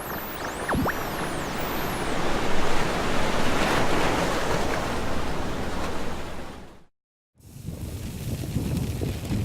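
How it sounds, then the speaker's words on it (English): Large ocean waves on an exoplanet, with no land for them to break against, surge in a continuous loud roar of surf and wind. A short silent gap is followed by more churning water. "these waves have no land mass to crash into, so they really can build to quite substantial sizes"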